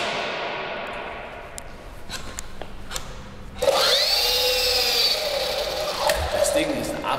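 A small electric motor of a T-Series T-23 toy RC helicopter spins up abruptly into a high, whining rev that rises and holds, preceded by a quieter whir and light clicks.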